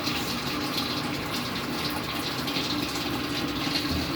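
A washing machine filling with water during its self-test, with a steady, loud rushing gush of water pouring in continuously and without pause.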